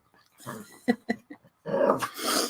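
Several dogs growl and grumble in short bursts at close range, with a longer, louder stretch of snarling near the end.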